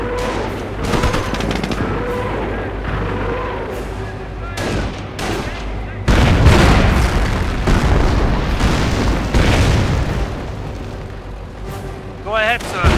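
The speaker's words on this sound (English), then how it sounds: "Rockets barraging target" Rocket barrage in Company of Heroes: Tales of Valor, set in the Falaise Pocket battle: dense, rumbling explosions and booms build and roll through the scene, loud and continuous, mixed with battlefield noise and occasional voices.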